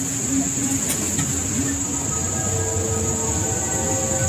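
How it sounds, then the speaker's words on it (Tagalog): Crickets chirp in a steady, shrill drone that runs throughout, fairly loud and close, over a low background hum. "Ang ingay ng kuliglig."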